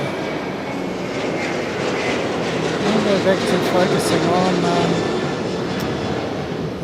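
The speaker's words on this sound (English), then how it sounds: "there's yet another aircraft on its way in" A jet aircraft approaching Fukuoka International Airport roars steadily in the distance, a broad continuous engine rumble that swells slightly midway, while someone talks over it.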